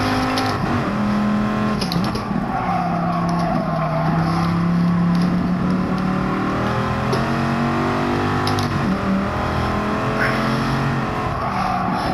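A Dodge Viper with an 8-liter V10 in Gran Turismo Sport, engine droning loud and steady, pitch climbing and falling through gear changes as the car is driven hard around a track, with no voices.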